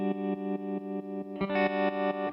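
A guitar chord through an amp throbs with a ramp-wave tremolo, rhythmic pulses that swell and chop off in an even stream, with a new brighter chord struck midway, loud and with no voices.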